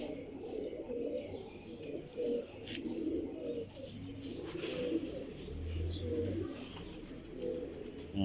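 Soft, repeated pigeon coos drift through a quiet outdoor space, with faint chirps and light background noise and no one talking.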